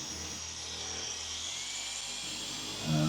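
Rotary car polisher fitted with a foam cutting pad working heavy-cutting compound, a steady high whine running continuously and close, with a brief low thump near the end.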